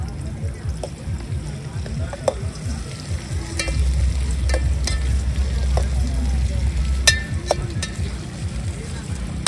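Chicken curry frying in a pan, a dense continuous sizzle with scattered clicks and scraping, and a low rumble underneath in an open outdoor setting.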